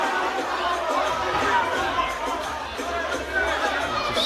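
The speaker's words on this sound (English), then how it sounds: "Crowd goes wild." A boxing crowd at a live fight night in Dudley, Birmingham, UK roars and chatters in a dense, continuous wall of noise after the fight ends, loud and sustained throughout.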